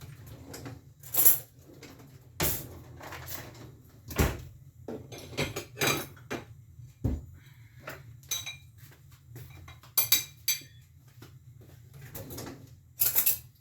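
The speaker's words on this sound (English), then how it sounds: "I'm just going to cut one so you guys can see how the inside looks like" Cutlery cutting through a meatball on a plate, heard as scattered clinks and scrapes of metal on ceramic at moderate distance, with faint background noise and no talking.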